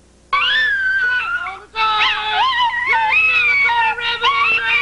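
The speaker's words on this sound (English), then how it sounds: "This is CJ, the singing chihuahua from Fort Myers" A chihuahua howls and yips in long wavering pitches along with a person singing, loud and close, the dog's voice sliding up and down through most of the stretch.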